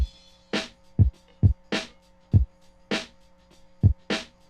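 A punchy drum loop: deep kick thumps alternating with bright snare hits in a steady, even groove, clear and upfront with no voices.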